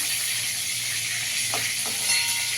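Pointed gourd (potol) pieces frying in hot oil for a doodh potol dish, a steady close hiss and sizzle with faint clinks of a utensil partway through, no talk.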